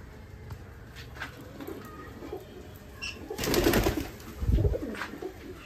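Madrasi pigeons kept loose in a netted loft coo in a low, close murmur, with a louder burst of cooing and wing rustle toward the end over a steady background.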